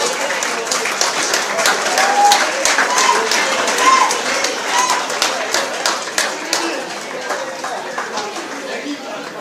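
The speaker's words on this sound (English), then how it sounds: "round of applause for both fighters" Sustained applause from a crowd for both fighters after a bout, dense clapping that holds steady and slowly thins toward the end, with some scattered voices mixed in.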